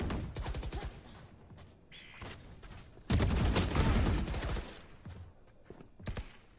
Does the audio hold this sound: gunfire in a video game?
yes